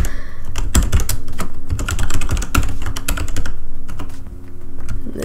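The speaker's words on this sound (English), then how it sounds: "he is here right now typing it" Rapid clattering keystrokes on a computer keyboard as a password is typed at a login screen, close and continuous for several seconds with a brief pause near the end, no speech over it.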